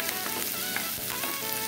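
Onion sizzles in hot oil for a tempering, alongside urad and chana dal, in the base of an Andhra-style raw banana sabji; a steady, close frying hiss continues with faint crackles and the occasional soft stir, with no voices.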